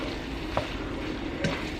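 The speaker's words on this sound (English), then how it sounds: "And stir that all up." Asian noodle mixture being stirred in a pan, a steady close sizzle with two brief scrapes of the utensil against the pan.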